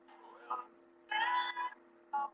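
A pet cat meows indoors, giving three short, close cries with pauses between them and no talk over them.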